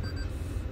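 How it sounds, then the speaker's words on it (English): A 2020 Toyota Prius Prime gives a brief high electronic beep inside the cabin, a thin steady tone heard once, faint against a low rumbling background. "It's beeping at me."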